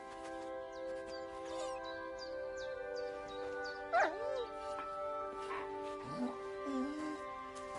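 A dog in the medieval video game Kingdom Come Deliverance 2 gives short yips and whimpers over a steady tonal ambient background, with a voice speaking briefly in between.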